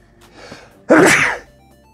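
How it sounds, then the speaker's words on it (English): A single sharp sneeze bursts out loud and close, preceded by a soft breathy intake. "I think that I have to sneeze"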